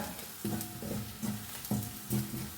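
A spoon scrapes through sweet potato masala in a cooking pan in rhythmic strokes, about five distinct stirs over a faint background sizzle.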